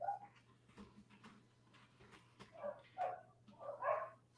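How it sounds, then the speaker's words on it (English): Several dogs, not corgis, bark and yip outdoors at a distance, faint and scattered at first, then louder in a few clustered barks over a low steady hum. "I'm hearing dogs that aren't the corgis."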